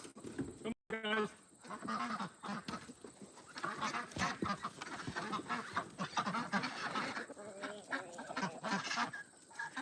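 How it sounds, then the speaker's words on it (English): Ducks and geese on a homestead quack and honk loudly and continuously at close range, with overlapping calls from several birds and some voices mixed in. "here are the ducks doing duck things"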